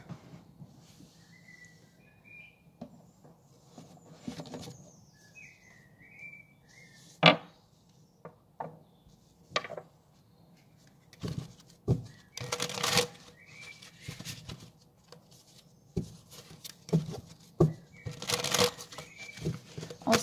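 Tarot cards being shuffled by hand, with repeated soft riffling bursts and sharp slaps of the deck in irregular clusters, close and fairly quiet, with no talking.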